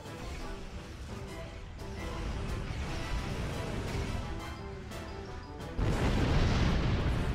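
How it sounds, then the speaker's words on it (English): A big explosion in the Star Trek Online space battle against Reman ships, heavy low rumbling booms under game music and effects, with a louder, broader blast bursting in near the end. "That was a big explosion."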